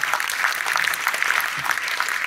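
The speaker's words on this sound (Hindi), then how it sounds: "वेस्ट बंगाल, क्या बात है, जोरदार तालियां।" A crowd at a motivational seminar applauds people from West Bengal. The clapping is dense and continuous with a few sharper claps, and no speech is heard.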